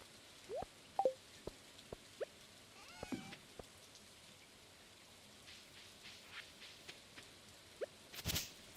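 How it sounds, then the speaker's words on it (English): Light rain patters in a farming video game on a wet day, soft and steady throughout with scattered drips and a few sharper splashes, faint and distant with no one talking. "Oh, and it is the rain day"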